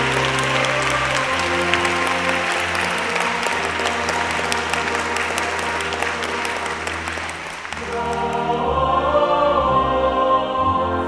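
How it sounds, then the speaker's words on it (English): Sustained audience applause fills a ceremony hall as an ovation for Vice-Chancellor Lap-Chee Tsui of HKU, loud and steady for most of the stretch, dipping briefly before music-like tones rise near the end. "I don't think we can let this moment pass without us giving you another ovation"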